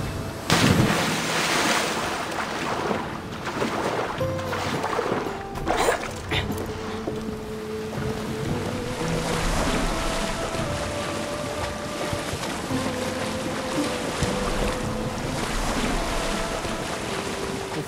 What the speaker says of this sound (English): Our boat can actually get destroyed if we take it a little farther into the ocean